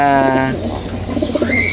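A pigeon gives a low, rolling coo up close, followed by softer cooing and faint chirps.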